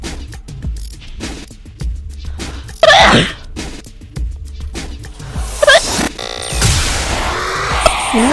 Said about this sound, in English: I don't like my sneeze.